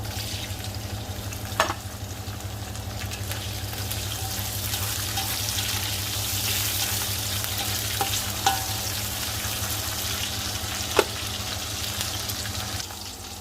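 Tomatoes sautéing in a pan for ginisang mungo, a soft steady sizzle with occasional faint clinks of stirring, quiet and without talk.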